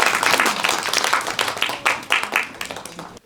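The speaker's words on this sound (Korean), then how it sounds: "박수로 모셔보겠습니다" Audience at a disability family speech contest in Hwaseong applauding to welcome a family representative to the stage, a close burst of many hands clapping that swells briefly and then tapers into scattered claps.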